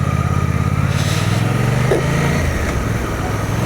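Suzuki GSX 800T motorcycle engine under way on the road, a steady loud buzzing drone with a slight pitch rise as revs climb, continuous wind-tinged rumble throughout.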